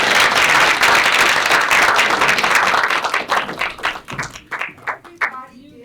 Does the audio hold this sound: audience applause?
yes